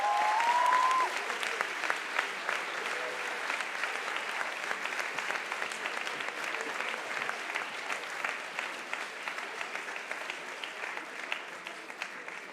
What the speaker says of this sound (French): Une tornade d'applaudissements, s'il vous plaît.